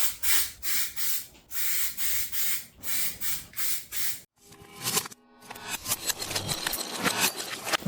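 Aerosol spray can hissing onto a car wheel, a series of short rhythmic bursts followed by a longer, rougher spray, close and fairly quiet.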